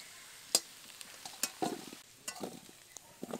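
Bay leaves, dried red chillies and whole cumin crackle in hot oil, a quiet sizzle broken by scattered sharp pops and spatters, close and without talk.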